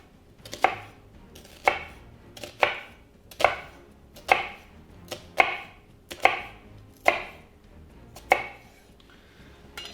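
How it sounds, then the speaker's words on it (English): A knife chops through an onion on a cutting board in about ten sharp, evenly spaced cuts, each a crisp close knock with a short ringing tail, with no talk. "I'm gonna take the knife and I'm gonna cut, make small cuts across the knife, or across the onion"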